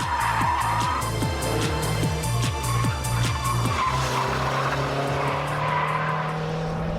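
A 2002 Lotus Esprit V8's loud engine revs and burbles in rapid pulses while tires squeal and scrub as the tail slides wide, ending in a sustained hard-driven engine note, close and continuous.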